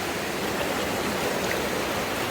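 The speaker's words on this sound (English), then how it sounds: "this beautiful, absolutely beautiful river just off of the campsite" A mountain river flows just off a campsite at Elkmont in the Great Smoky Mountains, a loud, steady rush of water filling the scene with no voices.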